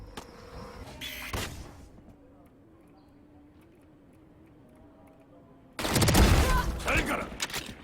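Stinger gun fire in the video game Valorant: a couple of short bursts near the start, a quiet gap, then a loud sustained burst of rapid shots at close range, with game sounds around it.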